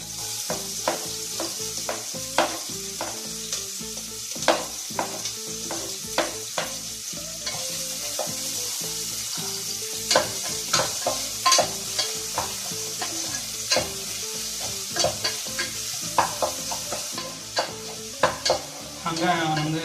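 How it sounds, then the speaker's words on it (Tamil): Onions fry in hot oil for a chicken curry with a loud, steady sizzle, punctuated by regular scraping strokes of a spatula stirring the pan. "இப்போ ஓரளவு நல்லா காஞ்சிருச்சு. ஸோ வெங்காயத்தை போட்டுக்கலாம்."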